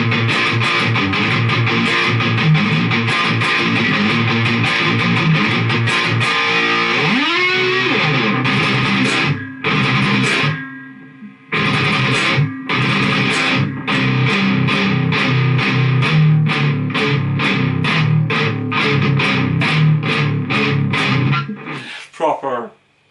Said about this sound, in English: Proper, you know, metal tones right there.